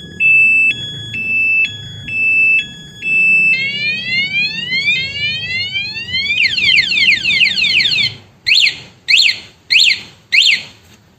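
A remote alarm on a 2022 Honda Beat scooter sounds close and loud, cycling through beeping tones, rising sweeps, rapid warbles and then several sharp whooping bursts with gaps between them.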